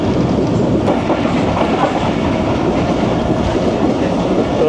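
The Tezgam passenger train runs along the rails at speed, and a loud, continuous rumble with rhythmic wheel clatter is heard from inside the carriage.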